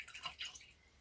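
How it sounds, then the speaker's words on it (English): Brief watery swishing and dripping as a paintbrush is swished in rinse water, two quick splashy bursts close by, then quiet. "Gonna swish my brush in the water."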